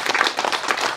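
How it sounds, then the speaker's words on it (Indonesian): An audience claps for the Minister of Agriculture at an Indonesian farm machinery handover event, with a dense, close burst of many hands applauding together for about a second. "Kita tepuk tangan untuk Bapak Menteri"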